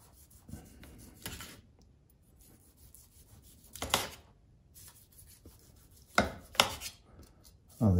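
A knife cuts through a rested smoked Christmas ham injected with glögg, giving a few separate scraping, rasping strokes with quiet pauses between them and no voices.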